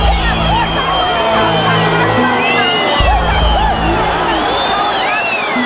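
Large crowd of jubilant protesters outside a government building during a revolution, a continuous roaring hubbub of cheers, whoops and shouting voices, loud and sustained throughout.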